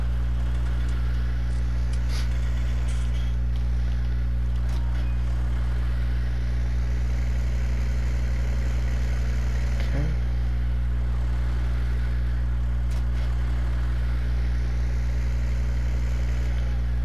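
A tractor engine in the farming video game Farming Simulator 19 drones steadily at low pitch throughout, with no talk over it.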